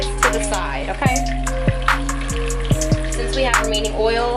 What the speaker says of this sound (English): Since we have remaining oil, we're gonna put our shrimp on there. It's gonna sizzle